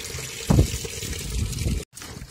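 Clothes being washed by hand with water and soap in a Himachal Pradesh village, heard as close sloshing and splashing bursts with a short silent gap near the end.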